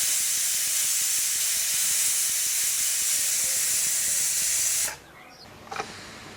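A pressure cooker holding mutton curry hisses steam in a loud, steady rush that cuts off abruptly near the end, leaving quiet room sound and a small clatter.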